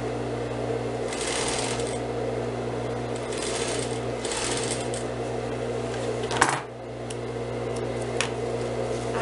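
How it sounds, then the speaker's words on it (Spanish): Sewing machine running steadily while stitching a seam with a 2 cm allowance on an outer garment piece, a continuous close mechanical hum with light clicking textures and a brief pause near the end. "Voy a hacer mi pespunte a 2 centímetros."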